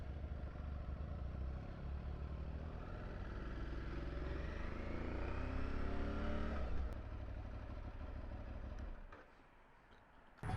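Aprilia Tuareg 660 middleweight motorcycle riding on the road, its engine droning steadily with rising revs and wind noise throughout, then dropping away sharply near the end before briefly returning.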